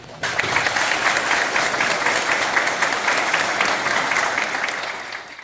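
Loud, sustained audience applause at a live cultural broadcast in Coité, with many hands clapping densely and evenly for over five seconds after a brief quiet start, then easing slightly at the close.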